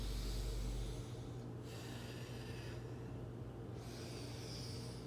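A deep, drawn-out inhale in a yoga breathing exercise, close and steady, rising into a breathy rush with a brief pause partway through and no talking.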